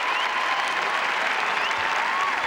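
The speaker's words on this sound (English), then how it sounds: "Great for the crowd to applaud him like they're doing." Sustained applause from an arena crowd at the World Figure Skating Championships, men's free skate, dense and steady clapping throughout with no pauses.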